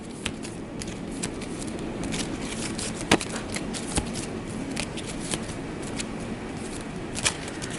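Playing cards from a tabletop game deck are shuffled by hand in a steady riffling patter of soft crackles and light snaps, with a few sharper clicks standing out, close up and with no talking.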